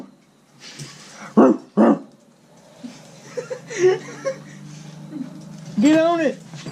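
A dog on a property where a 212 engine is being fitted to a yerfdog go-kart barks a few times in short bursts amid people talking and chuckling, with a louder yelping howl near the end.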